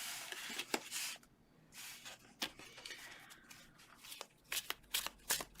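Tarot cards being shuffled in several quick bursts, soft riffling and slapping sounds close by with short pauses between.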